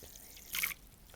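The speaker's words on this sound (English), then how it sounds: "I like to suck the water up slowly and then push it out slowly" A short squirt of water pushed slowly out of a Moroccan henna syringe applicator: one brief, soft hissing spurt lasting a fraction of a second over quiet background.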